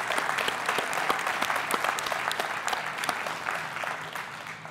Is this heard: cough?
no